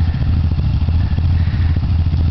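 A trail motorcycle with a worn-out clutch runs loud and close, its rough engine drone steady, with clattering thumps throughout.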